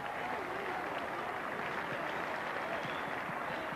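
Large partisan football crowd at the 1986 World Cup final between England and Australia, a steady dense roar of cheering and applause filling the whole stretch at an even, distant-sounding level.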